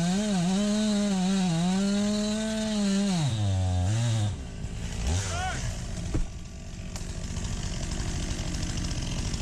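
A STIHL MS 261 chainsaw fells a tree, its engine note falling as it bogs into the cut before settling to a lower, rougher drone, close and loud throughout.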